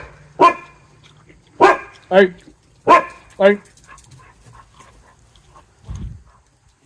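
Dogs at an outdoor kitchen bark in a loud, irregular series of five close barks, then whimper softly and trail off, with a person's brief word in between.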